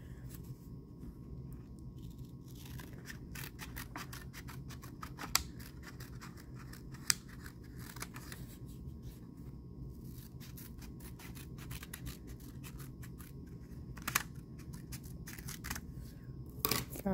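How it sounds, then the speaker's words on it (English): Scissors cut out a drawn penguin shape from white paper for a bookmark craft, giving faint, close snipping and rustling over a low room hum, with no talk. "Go ahead and cut that out"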